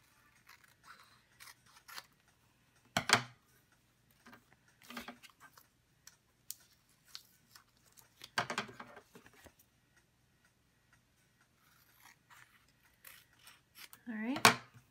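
Scissors trim adhesive vinyl in a few quiet, close snips spaced several seconds apart, with small rustles and faint handling noises between cuts.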